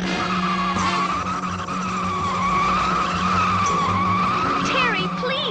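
A car skids downhill as the brakes are applied in an audio drama, a loud sustained tire squeal with wavering screeches over engine rumble, lasting the whole moment.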